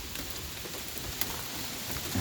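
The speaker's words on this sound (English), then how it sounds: "it's still raining" Steady rain falls outside a shop at a newly bought house, a soft, even hiss of drops that stays faint and unbroken throughout.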